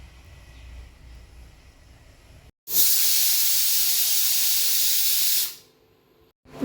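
A pressure cooker holding beef curry vents steam in one loud, steady hiss lasting about three seconds, cutting in abruptly after quiet kitchen background and fading out at the end.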